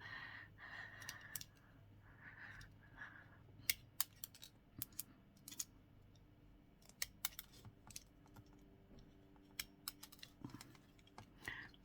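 Scissors snip through artificial nail capsules to shorten their length during nail removal, a series of sharp, close clicks in irregular bursts over a faint background.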